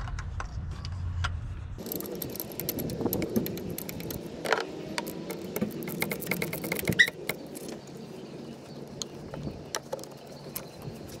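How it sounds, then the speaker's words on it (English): Ratchet clicks from reinstalling a spark plug on a 1996 Toyota Tacoma, a steady run of small, close, sharp metallic ticks over faint workshop background, with no talking. "putting some anti-seize on the thread and putting back the plug"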